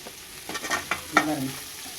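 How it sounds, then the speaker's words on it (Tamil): Potatoes sautéing in a pan: a short stretch of soft sizzling broken by a few quick scraping strokes of a spatula, close up and moderately loud. "உருளைக்கிழங்கு நூற்பது நல்லா வதங்குதுங்களா"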